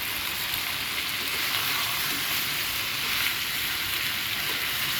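Egg fried together with meat masala in mustard oil, a constant soft even sizzle over medium-low heat with faint occasional stirring, no voices.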